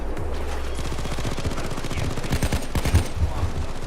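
A sentry gun in the heist shooter Payday 2 fires a fast, steady automatic stream of shots at moderate volume, lasting the whole few seconds without talk.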